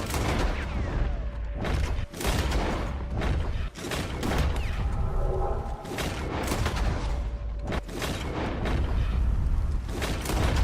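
Running-and-shooting gunfire in Red Dead Redemption 2, a dense, loud string of heavy booming shots fired every second or so over a constant rumbling background, with no talking.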